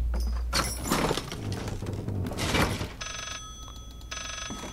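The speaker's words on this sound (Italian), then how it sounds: "sto telefono è squilla" A telephone rings in a game scene, with steady electronic ringing tones repeating in bursts over thuds, rustles and other loud game sounds, fairly close and prominent.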